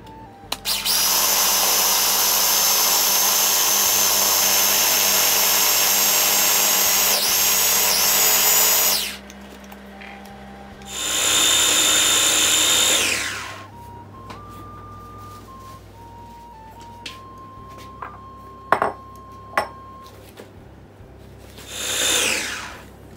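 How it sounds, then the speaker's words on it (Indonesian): An electric grinder or blender pureeing spice ingredients into a smooth paste for sate padang, whirring loudly in two long bursts separated by quieter clatter and small knocks. "Ini kita haluskan bener ya sampai jadi pasta gitu."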